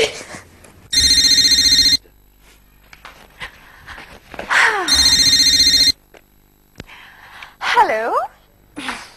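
A telephone rings in two loud, shrill electronic bursts about a second long each, with people talking in the gaps between them.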